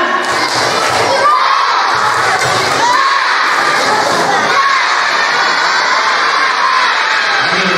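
A crowd of children at a religious gathering shout a rhythmic spirit chant with claps, loud and close, pulsing in bursts of voices and hand beats that merge into a continuous cheerful roar.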